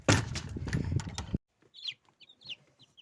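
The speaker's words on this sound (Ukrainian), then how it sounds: "Тут у кролячу клітку посадила квочечку." A broody hen sits inside a rabbit cage on a small farm, giving several soft, close clucks in short irregular bursts after a brief loud rustle at the start.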